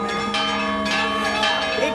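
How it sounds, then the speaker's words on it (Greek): Church bells ring out at a royal wedding in Greece, a dense wash of overlapping metallic tones with a steady, continuous clang and fairly loud, full-sounding resonance. "Οι καμπάνες χτυπούν."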